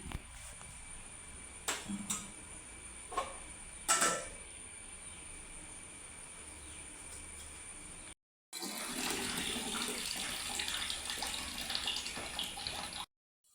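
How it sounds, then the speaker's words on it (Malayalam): Water is poured into a cooking pot for boiling tapioca (kappa), first in a few short splashes and then as a steady, close rushing pour lasting several seconds. "അപ്പോൾ ഇത് വെള്ളം ഒഴിച്ച്"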